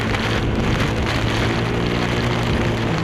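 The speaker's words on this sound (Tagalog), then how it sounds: "napakalakas na buhos ng ulan" Dense, steady heavy rain from a typhoon in Baguio City pours down, a constant roar of drops with a low rumble of wind or motion beneath it.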